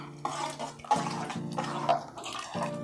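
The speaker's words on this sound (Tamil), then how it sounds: "ஜாரில் கொஞ்சமாக தண்ணி விட்டு கழுவி ஊற்றுருங்க" Water splashes and sloshes in short repeated pours, close and fairly loud, with a gurgling rhythm, as a jar is rinsed and the water poured into a pan of chow chow kootu.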